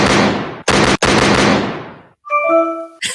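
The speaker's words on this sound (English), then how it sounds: "The gunshots on that one." Video-game gunfire: a dense roar of rapid machine-gun shots, broken by brief gaps, then short ringing tonal blips, loud and close.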